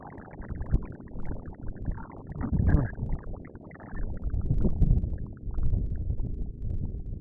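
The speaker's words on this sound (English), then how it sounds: "You can probably hear the wind." Wind gusts buffet a 1992 Rexhall Airex motorhome's fiberglass roof during outdoor repair work, producing loud, rumbling, surging microphone blasts that rise and fall over several seconds.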